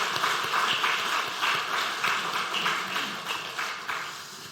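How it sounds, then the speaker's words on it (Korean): A church congregation claps steadily for the choir at a Sunday worship service, a sustained wash of many hands applauding together in a reverberant hall that slowly eases off. "새해에도 헌신에 우리가 축복하고 격려하는 박수"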